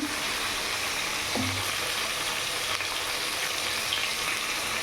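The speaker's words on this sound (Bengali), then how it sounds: "দেখো কাতলা মাছ ভাজা হচ্ছে" Constant, even hiss of catla fish frying in a pan, moderately loud and unbroken, with a faint clink partway through.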